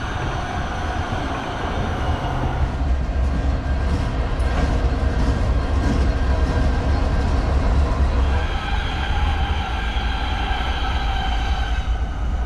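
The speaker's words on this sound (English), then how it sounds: "Again, some Metro and freight action." Loud, continuous rumble and clatter of Metro light-rail and freight trains rolling past close by on the Metro A Line extension toward Pomona, a steady rail roar with metallic squeals, no talking.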